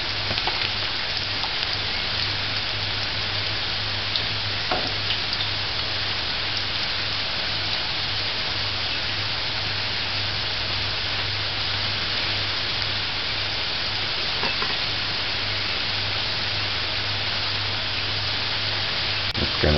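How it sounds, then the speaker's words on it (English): Potato French fries sizzle in hot oil, a dense steady hiss with scattered pops that carries on alone without pause. "Just make sure all the French fries, just be sure all the potato is in the oil."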